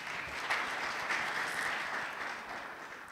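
Audience applause at a foundation launch event in Ethiopia, a sustained, even wash of many hands clapping at moderate distance, steady for the whole stretch without talk.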